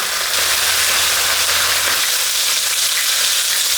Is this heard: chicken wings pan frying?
yes